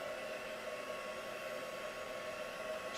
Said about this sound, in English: Just drying that off quickly.